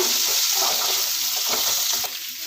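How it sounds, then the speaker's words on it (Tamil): Grated coconut and onions sautéing in a home kitchen pan, a steady close sizzle with soft stirring scrapes throughout, no voices. "தேங்காய் போட்டு நல்லா வதக்கிடுங்க"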